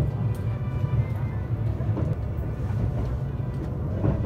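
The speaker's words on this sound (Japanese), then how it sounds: "列車は間もなく石神前の駅を通過するところですが" Onboard the limited express Ome heading to Okutama, a steady low rumble of the train running on rails fills the cabin, with faint rhythmic clicks and no voices.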